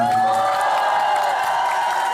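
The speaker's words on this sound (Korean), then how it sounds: "박수 한 번 쳐줍시다" A fan crowd at a birthday party event cheers and applauds together, a dense sustained roar of voices and clapping, loud and continuous with no gaps.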